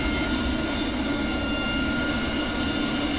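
An AV-8B Harrier jet engine in a flight simulator holds a steady, loud, close whine and roar at idle, continuous and even with no other sounds.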